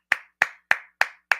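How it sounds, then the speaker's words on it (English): Five sharp, evenly spaced hand claps, close and dry, with no voices or other sound around them. "Clap it up for TreVeyon Henderson."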